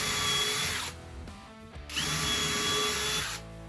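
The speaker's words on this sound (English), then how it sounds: "Now it's definitely advisable to pre-drill this" A power drill pre-drills wood for a picnic table, whining loudly at high speed in two runs separated by a short pause, close to the listener and without talk.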